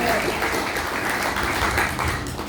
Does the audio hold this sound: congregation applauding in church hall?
yes